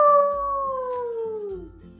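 A person imitates a dog's howl with one long, smooth tone that slowly slides downward over two seconds. It sounds clear and close, with soft music faintly beneath it.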